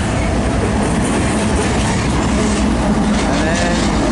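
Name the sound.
freight train passing by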